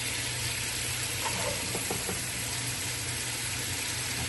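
Garlic, onion and mushroom sauté in a hot pan with a steady, dense sizzle. A few faint stirring knocks sit over a constant background hiss.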